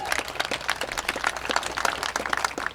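Scattered audience applause at a gun violence prevention event, a steady patter of many hands sustained for a few seconds at moderate level with no talk over it.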